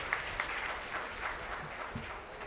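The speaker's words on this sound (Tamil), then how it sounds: "திருமதி புவனேஸ்வரி அவர்களை உங்களது கைத்தட்டல் கிடையே அழைக்கிறேன்" A crowd at a Tamil debate event claps in moderate, fairly quiet applause for a couple of seconds, with a few sharper individual claps standing out.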